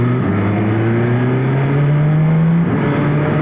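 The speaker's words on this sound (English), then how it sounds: "The sound of that R1, that cross-plane engine" A Yamaha R1 superbike with a cross-plane engine revs loud and close, its deep tone climbing steadily and then dropping back, with no talking over it.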